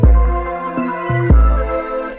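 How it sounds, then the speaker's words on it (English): Two 808 basses, a Huzz 808 and an Evicted 808, panned to opposite sides in a trap-style beat, give heavy low booms that slide between pitches, with several punchy hits over about two seconds. "And this Huzz 808 pairs really well with the Evicted 808."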